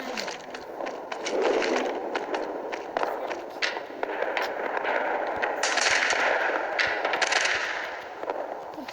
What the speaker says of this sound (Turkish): Arkadaşlar bende de taramalı var.